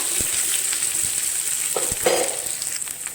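Amla and coconut pieces sautéing in a pan for amla chutney, a steady sizzle with occasional clicks of stirring, fairly close and continuous.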